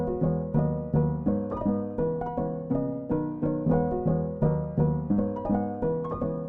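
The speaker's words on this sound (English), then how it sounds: "I've duplicated this piano layer into another piano which sounds like this." Second, duplicated piano layer in a chill pop house track, playing a steady rhythmic pattern of sustained chords with regular pulses and a soft attack on each hit, alone without any talk.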